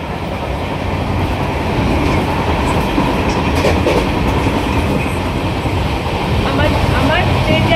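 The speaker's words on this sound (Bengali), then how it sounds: "আমার ট্রেন জার্নি শুরু হয়ে গেছে" A moving train rumbles steadily with rhythmic wheel clatter on the rails, loud and close as if heard from inside a carriage, with faint voices in the background.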